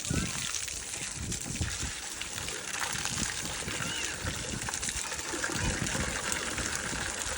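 Water gushes steadily to fill plant pots and soak flowers and trees, a continuous moderate splashing flow with voices talking over it.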